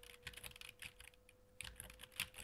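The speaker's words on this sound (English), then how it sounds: "I will activate these muscles when tapping the keys." Computer keyboard keys are tapped in quick, irregular bursts of faint clicks while controlling a skier in a game, close to the microphone and with no voices.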